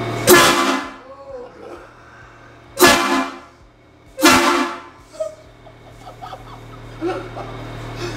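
Three loud, long train horn blasts fitted to a limousine ring out in turn over a steady engine hum, followed by softer background noise and faint voices.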